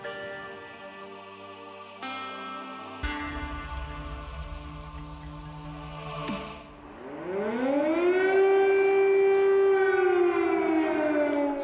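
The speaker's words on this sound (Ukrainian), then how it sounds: "С самого утра в Киеве не умолкают сирены воздушной тревоги." An air raid siren wails over Kyiv, a loud drawn-out tone that shifts pitch, then swells into a rising, sustained howl that carries across the city.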